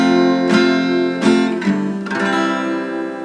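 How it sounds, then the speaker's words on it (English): Chords played on a piano move through a four-to-one plagal cadence, with several sustained harmonic chords struck in sequence at a moderate, steady pace and no voices. "That's a plagal cadence."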